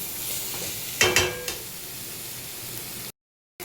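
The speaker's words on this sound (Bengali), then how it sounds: "এখানে একটুখানি ভালো করে ভেজে তারপর জল দিয়ে দেবো" Spice masala frying in a pan, a steady sizzle with a couple of sharp stirring scrapes near the middle, close and alone before the sound cuts out briefly at the end.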